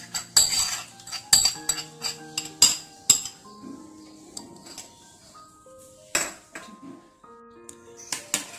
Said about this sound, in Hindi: इस सारे मिक्सर को हम बहुत अच्छी तरह से मिक्स कर लेंगे